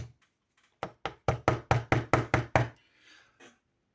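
Nine sharp knocks on furniture in a quick, fairly even series, close and loud, trailing off into a faint rustle and one soft tap.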